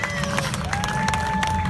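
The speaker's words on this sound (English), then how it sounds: "Everyone cheer for my commander" A small group cheers and shouts for a newly named commander at a casual event, with scattered claps and voices rising over a steady low hum from start to finish.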